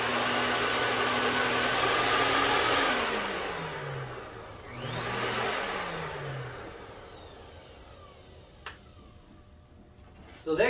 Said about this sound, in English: Basically sounds like a powerful shop vac